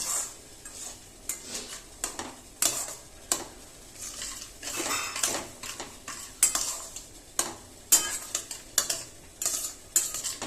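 Semolina for upma being stirred and roasted in a little oil, a close run of steady metal spoon scrapes and clinks against the pan over a faint sizzle, repeating in uneven strokes.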